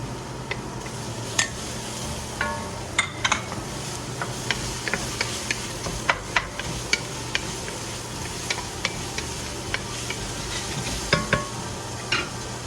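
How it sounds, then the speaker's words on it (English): Sausage browning in a pot for corn chowder, a soft steady sizzle under repeated scrapes and clicks of a utensil stirring against the pot, close up with no talking. "Add the sausage, stir and brown until just cooked through"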